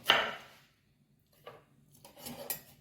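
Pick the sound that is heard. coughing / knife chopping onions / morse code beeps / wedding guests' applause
knife chopping onions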